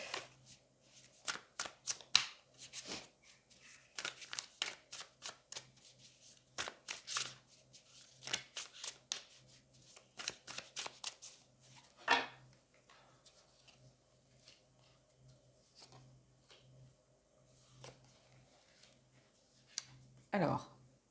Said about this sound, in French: On va déjà prendre 3 cartes dans un premier temps.